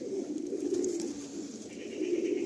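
Madrasi pigeons offered for sale coo softly in a low, continuous rolling murmur, with a couple of swells of closer cooing and no voices.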